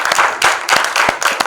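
Audience applause at a film, photo and video event, heard as a brief patter of scattered claps in uneven bursts, moderately loud, with no talking.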